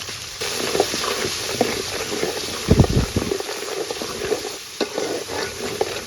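Spice paste of ground garlic, ginger, onion and cumin with turmeric, chili powder and salt fries in a pan for taro curry, a steady close sizzle with scraping stirs and a louder burst of clatter midway; no one speaks.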